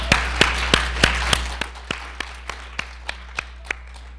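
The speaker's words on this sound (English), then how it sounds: "So give them a round of applause, please." A small audience claps at a community college permaculture garden charrette. A dozen or so sharp, evenly spaced claps start fairly strong and gradually grow softer.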